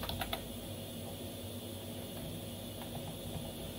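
Quiet keystrokes on a computer keyboard, typing a command into a Linux terminal, sound faintly over a steady background hiss, with a few clustered taps near the start.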